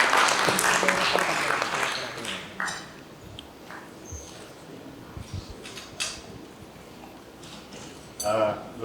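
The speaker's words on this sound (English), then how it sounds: "let's give a warm round of applause to Transportation Secretary Arthur Tugade" An audience at a business CEO forum applauds to welcome the Transportation Secretary to the stage: a dense burst of clapping that thins and fades after a few seconds, with a voice speaking over the quieter stretch.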